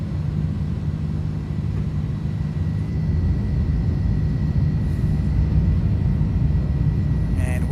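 A simulated IniBuilds Airbus A310-300 airliner takes off with a steady, loud low rumble of jet engines that runs unbroken throughout and stays close.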